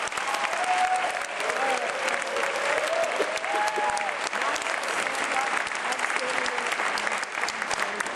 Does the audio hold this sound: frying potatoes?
no